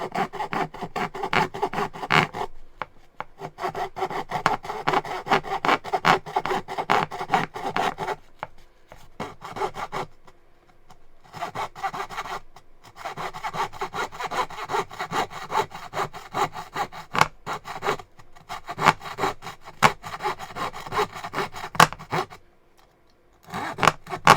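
A Japanese pull saw rasps back and forth through cheap plywood in steady strokes, pausing briefly a few times, close and fairly loud.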